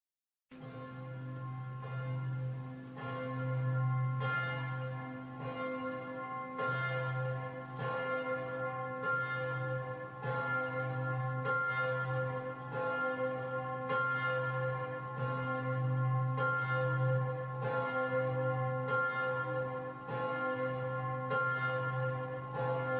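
The carillon of Rouen Cathedral rings out in a long, steady sequence of struck bells, each strike sustaining into overlapping resonant tones with a rhythmic pattern, clear and unaccompanied by voices.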